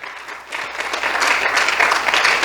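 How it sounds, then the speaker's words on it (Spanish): A church congregation applauds during a sermon, a loud, dense burst of clapping that swells after a brief dip and carries on steadily. "Dele una ofrenda de aplausos al Señor."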